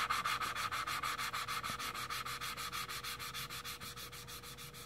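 Engine valve lapped against its seat with compound, turned rapidly back and forth by hand, giving a fast, steady gritty rasp of about four strokes a second, close and fairly faint.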